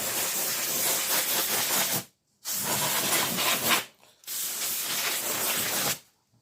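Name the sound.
compressed air duster can spraying dust off TV board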